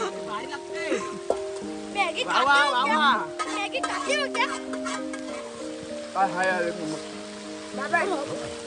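Heavy monsoon rain keeps up a constant hiss outdoors during a riverside party, largely under lively chatter and children's voices.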